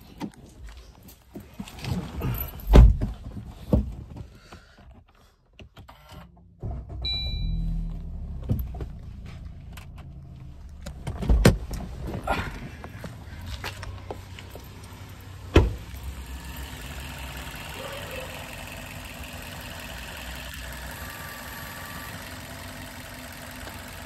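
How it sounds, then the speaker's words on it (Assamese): A Maruti Suzuki Swift ZXI petrol car engine cranks and starts with a few sharp knocks, then settles into a steady, fairly quiet idle close by, with no voices. "মই এবাৰ স্টাৰ্ট কৰি শুনাই দিও আপোনালোকক"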